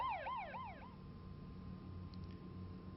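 An ambulance siren wails as it arrives at the scene of a worker injury, sweeping up and down for about a second before cutting off and leaving a low, steady engine rumble. The siren sounds moderately close.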